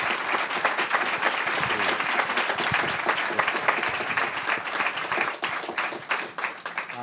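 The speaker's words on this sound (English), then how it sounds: "how about a round of applause for our panelists?" A seated conference audience applauds panelists after a cybersecurity workforce diversity discussion: dense, steady clapping from a sizable crowd, filling the room evenly for several seconds at full strength.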